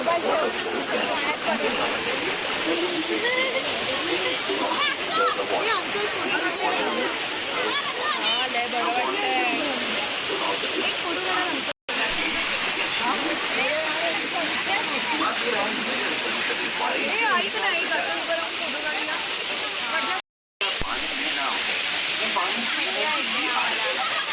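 Flowing stream water rushes steadily and loudly at the Matheran hill station, a continuous dense hiss that cuts out briefly twice. Voices come and go beneath it.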